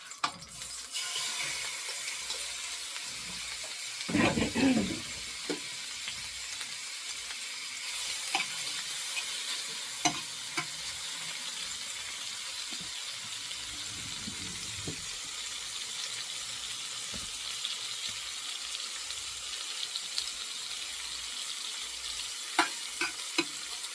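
Shrimp fry in a hot oil-coated pan for shrimp scampi, giving a steady broadband sizzle with brief louder crackles and stirring bursts; no one talks.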